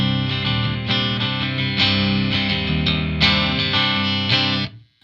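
Schecter Tao 7 seven-string electric guitar played on a parallel coil-split clean tone: a sequence of ringing chords changing every second or so, loud and close, ending abruptly, with no voices.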